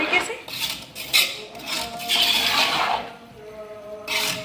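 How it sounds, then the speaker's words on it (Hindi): Metal spoon stirring sweet yellow rice with milk in a cooking pot: close, uneven scraping and clinking of utensil against the pot, with a faint tonal ring at times, in short bursts and longer sweeps. "आधा कप हम इसके अंदर दूध ऐड करेंगे, मिक्स करेंगे इसको"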